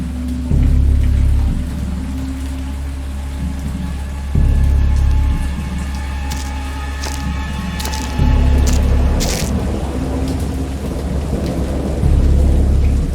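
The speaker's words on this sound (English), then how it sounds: "I heard pearls of thunder and other tones which nature utters only in her wildest" A heavy thunderstorm with steady loud rain, and low rolling thunder that swells and fades several times in regular waves.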